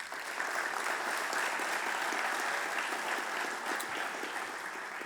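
Sustained, dense applause from an audience honoring award winners at an annual lecture fills the room evenly, loud and steady throughout with no talking.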